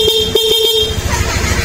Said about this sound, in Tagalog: Tapos, ang busina niya ay stock horn.